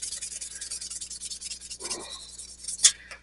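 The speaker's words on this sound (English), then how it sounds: "Now, take my little piece of sandpaper and just give it a." Fine 600-grit sandpaper rubs a small part of a Toro snowblower during repair: a soft, rapid scratchy rasping close by, growing briefly rougher near the end and finishing with a tiny click.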